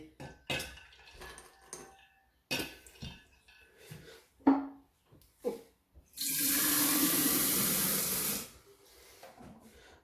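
Water pours steadily into a jug of tamarind and plum sharbat with ice for a couple of seconds with a loud, even rush, after a few scattered clinks and knocks.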